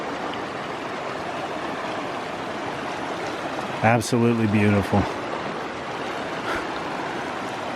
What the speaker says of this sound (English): I don't know what it is about seeing a nice, full, healthy river, but look at that.